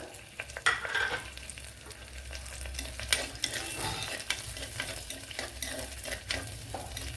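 Garlic, a small piece of ginger and a green chili, with cumin, frying in hot oil in a pan while being stirred, a steady close sizzle broken by spoon scrapes and clinks.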